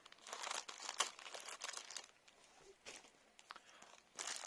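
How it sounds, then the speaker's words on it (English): Thin plastic coin bags crinkle and crunch as scissors cut them open, a close, soft run of rustling bursts with brief pauses between them. "I cut the bags open."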